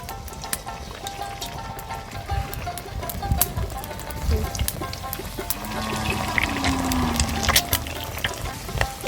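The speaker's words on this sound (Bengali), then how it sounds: "তেল হালকা গরম করে নিয়েছি, এবার তেলের মধ্যে এই কাঁচা ডিম ভরা পুরটা দিয়ে দেব" A raw-egg-filled pastry sizzles gently in warm white oil, a steady soft frying crackle with light stirring and scraping sounds throughout.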